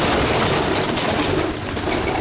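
A yearling female pigeon coos in a loft, its soft calls blended into a dense, steady wash of broadband noise that runs loud and unbroken throughout.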